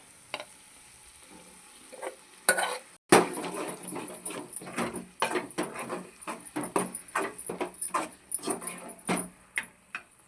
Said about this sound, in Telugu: ఇప్పుడు కొత్తిమీర వేసుకొని కలపాలి.